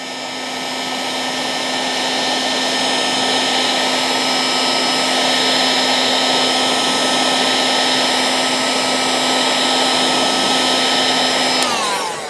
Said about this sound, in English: So we'll heat that one back up.